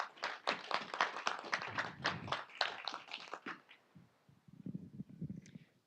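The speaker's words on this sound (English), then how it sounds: "So I feel like they all deserve a very quick round of applause." Brief round of applause from an audience at a 2024 student showcase, a dense burst of clapping for about three and a half seconds that fades, followed by quieter low murmuring.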